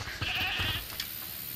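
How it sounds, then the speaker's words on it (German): A goat bleats in the video game A Plague Tale: Requiem, a short wavering cry sounding at moderate distance and fairly faint, with no one talking over it. "Hört mal, ist das die Ziege, die er meinte?"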